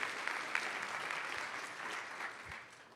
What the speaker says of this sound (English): Let's give our speaker one more round of applause.